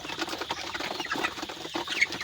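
Broiler chickens about 35 days old shuffling and flapping their wings in a farm shed, a steady rustling, fluttering clamour with soft clucks, close and continuous throughout.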